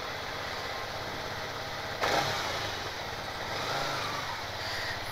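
Small dirt bike with the ignition on, its engine running at a steady idle as a low, continuous hum with a slight rise near the middle, no talk over it.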